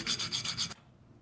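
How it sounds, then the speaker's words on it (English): A metal file rasps a screwdriver ratchet part until it shines: about five quick, even back-and-forth strokes, close and distinct, then the rasping stops. "So when I will trim it with the filing, so you will see it will get shiny."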